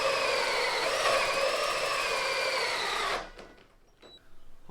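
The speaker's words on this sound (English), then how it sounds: "I do have a giant hole saw that I'm going to use" A large hole saw of about five inches bores through a door panel for a diesel Beetle, a loud steady whine for about three seconds that stops abruptly, followed by faint clatter.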